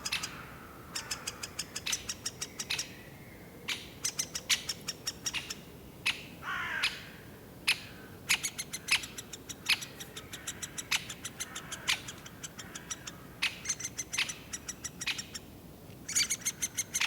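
Great spotted woodpecker chicks calling from inside a nest cavity, a rapid series of high, sharp chirps repeating in steady bursts over a quiet outdoor background, fairly close, with no talking.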